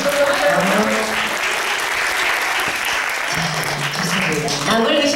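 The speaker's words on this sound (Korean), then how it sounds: "박수 한번 보여주실까요?" Audience applause fills a university book forum hall, a dense, steady roar of many hands clapping at close range, with a voice speaking over it.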